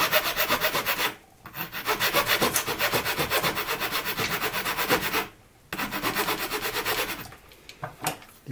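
A metal file rasps across an aluminium drink can, with steady rapid back-and-forth strokes that run close and loud, broken by two brief pauses.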